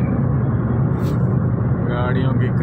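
Steady, loud road rumble of vehicles streaming past on the CPEC motorway between Lahore and Rahim Yar Khan, a continuous low roar with no gaps between passing cars.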